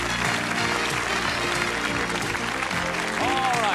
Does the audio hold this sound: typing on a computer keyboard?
no